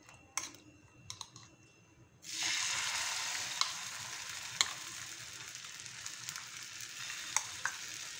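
Eggs poured as an omelette onto an oiled dosa griddle catch with a sudden burst of loud, steady sizzling after a few faint clicks and taps. The sizzle runs on close and continuous, with occasional light utensil clicks and no talking.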